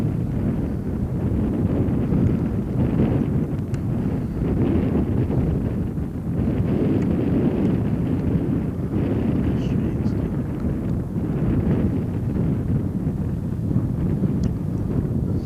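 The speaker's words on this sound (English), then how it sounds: "Very breezy here." Steady wind buffets the microphone atop San Francisco's highest point near Marin Woods, a continuous low roaring rumble with gusts that swell and ease throughout.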